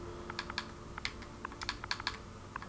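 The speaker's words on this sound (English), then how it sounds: "But typing in Xbox takes forever." Quick keys clatter on a computer keyboard while someone types a chat message on Xbox, a close, quiet burst of irregular taps with no talking.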